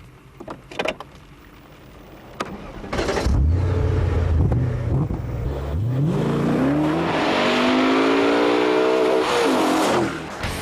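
A BMW Z8 sports car engine starts with a few clicks and then revs up hard, climbing through gears in a loud, sustained roar close by.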